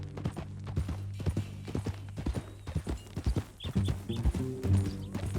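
Horse hooves clip-clop at a steady walking rhythm in the Red Dead Redemption 2 video game, close and clear over a low ambient hum, with a brief faint whinny-like sound midway.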